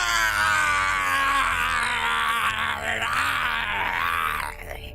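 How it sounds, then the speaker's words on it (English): Goku from Dragon Ball cries out in a long, sustained, strained scream in anime dialogue, loud and continuous for several seconds before breaking off abruptly at the end. "Goku jumps up and starts screaming, Kamehame!"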